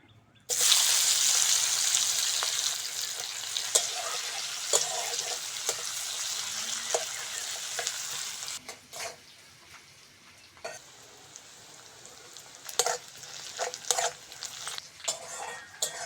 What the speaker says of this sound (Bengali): ওই তেলের মধ্যে কুচনো পেঁয়াজ আর কাঁচা লঙ্কাটা দিয়ে দেবো।